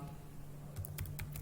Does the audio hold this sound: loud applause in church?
no